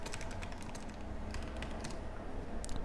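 Quiet typing on a computer keyboard, with quick clusters of light key clicks and short pauses between them over a steady low background hum.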